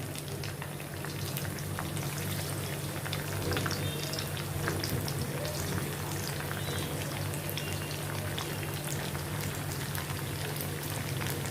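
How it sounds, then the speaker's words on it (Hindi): Macaroni frying in hot oil for crispy homemade snacks, a steady dense sizzle and bubbling crackle at moderate level throughout, with no talking. "अभी इसमें मैं ये फ्राई करने के लिए डालती हूँ।"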